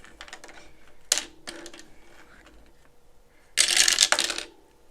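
A small four-sided die rattles and clatters across a hard surface in a couple of quick tumbling bursts, with lighter ticking and handling noises around them and no talking.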